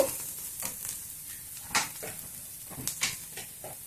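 Onions sizzle quietly in a pan for a paneer tomato curry, a soft steady frying hiss broken by a few light stirring scrapes and clinks, with no talking.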